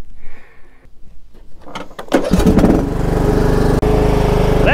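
A lawn mower engine on a hillside starts up after a brief pull, catching and settling into a loud, steady running drone that continues with a short dip near the end.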